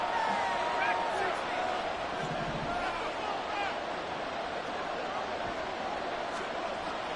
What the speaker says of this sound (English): Work to do here with a crowd at fever pitch.